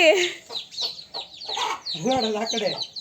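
A tiny chicken chick in a village gives high, close cheeps in short bursts, interleaved with people speaking over and around the calls.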